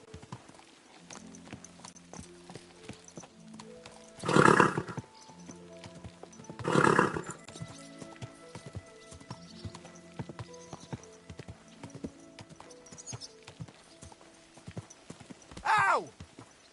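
Horse hooves clip-clop steadily in the Kingdom Come Deliverance video game, a continuous trotting rhythm under game music and ambience, with a few louder bursts rising above it.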